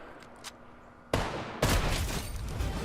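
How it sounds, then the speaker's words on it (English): Sniper rifle shots in Fortnite: two loud, sharp cracks about half a second apart, each followed by a broad rumbling tail, after a quieter stretch of game ambience. "A nice little sniper shot"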